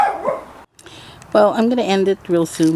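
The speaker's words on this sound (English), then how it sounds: "That's my dog." A household dog barks near a home vegetable garden, with sharp yips mixed among a person's steady talking.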